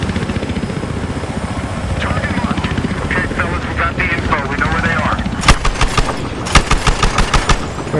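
A helicopter in the video game Battlefield Hardline thrums with a loud, steady rotor beat, joined later by bursts of rapid gunfire, while players talk over the din.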